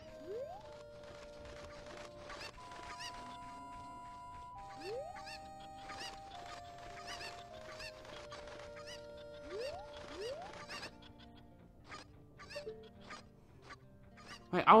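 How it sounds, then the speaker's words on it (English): Chickens in Zelda Ocarina of Time cluck and squawk in repeated short bursts over game music with rising tones, with a louder crash at the very end. "All the chickens, come in here!"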